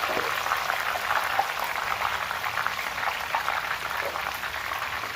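Tikha gathiya, a gram-flour snack, sizzling and bubbling in hot oil, a steady close crackle with no pauses.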